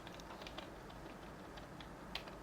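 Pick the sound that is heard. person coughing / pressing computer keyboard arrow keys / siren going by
pressing computer keyboard arrow keys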